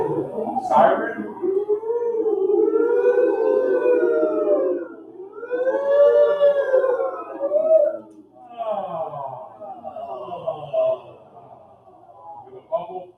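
A rehearsing group of voices imitates a siren, sliding up and down in rising and falling wails that overlap, then break into scattered softer vocal sounds, with a brief clap or click near the start.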